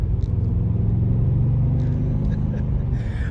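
A Holden VX Berlina wagon with an LS1 V8 accelerates along a highway, giving a steady deep engine rumble heard from inside the cabin, with faint clicks and rustles toward the end.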